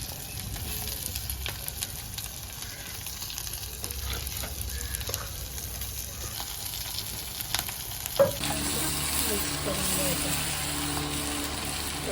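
Prawns sizzle steadily in a hot pan for a home-cooked prawn curry, with occasional stirring clinks. Near the end a brief clatter gives way to a louder, brighter sizzle.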